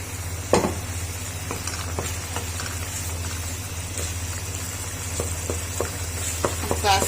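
Lamb liver fries in cooking oil in a pan, a steady low sizzle broken by scattered sharp clicks and scrapes of stirring, with no talk.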